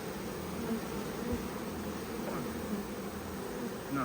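A honeybee swarm in a garden hums as a steady, dense buzz of many bees close by, faint but continuous with no voices over it.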